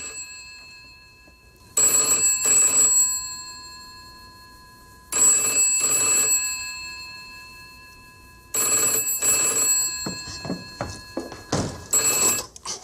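An old-style telephone in a hideout rings in loud, trilling bursts, with three long rings separated by silence and a fourth starting at the end, plus a few thumps near the end.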